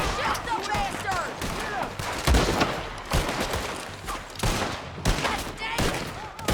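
Dense gunfire from a Red Dead Redemption 2 shootout, rapid overlapping shots and volleys crackling steadily throughout, with shouted voices mixed into the battle.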